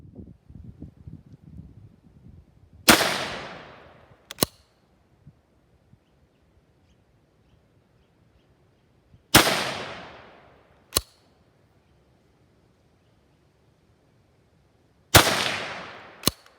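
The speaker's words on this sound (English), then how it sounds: "we've shot a 6th round" Three sharp, loud shots from a Savage A17 .17 HMR rifle, spaced several seconds apart, each followed about 1.5 seconds later by a fainter crack, with quiet outdoor air between.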